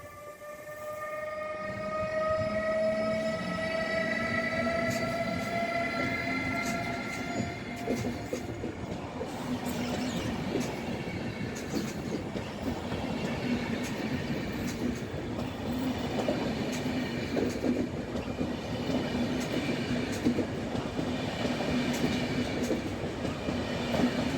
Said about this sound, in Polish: Odjazd Lecha do Wrocławia z wielosystemowym EU200